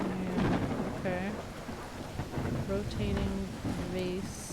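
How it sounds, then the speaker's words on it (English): Steady heavy rain with low thunder rumbling in the Call of the Elder Gods video game, a dense wash of downpour that continues throughout, with brief tonal game sounds over it. "It's raining cats and dogs here."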